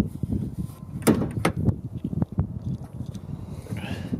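Hood of a 1996 Dodge Ram 1500 pickup being released, giving a couple of sharp nearby clunks and rattles over a quiet background.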